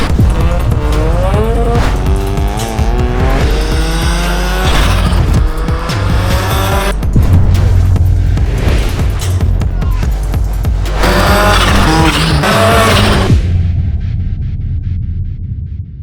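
A BMW E46 fitted with a turbocharged 13B rotary engine roars loudly while its tires squeal and skid in long, wavering screeches, with bursts of engine and tire noise before everything drops off abruptly to near quiet at the end.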